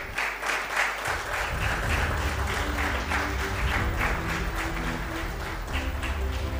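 Applause from the audience at an educational mentoring program in Mumbai, a steady wash of clapping sustained throughout, with a low hum early on and faint tonal sounds beneath.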